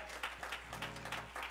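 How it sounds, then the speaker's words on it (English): Congregation applause during a church service: a round of scattered hand clapping at moderate volume, rising and falling in loose bursts over a low sustained tone. "Let's give her a round of applause as well."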